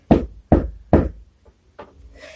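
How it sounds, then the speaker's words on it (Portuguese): Three loud, evenly spaced knocks on a door, followed by two fainter taps and a faint trailing sound. "E chegou lá e bateu na porta tremendo."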